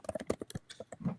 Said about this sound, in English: are you beating your fucking keyboard over there or what?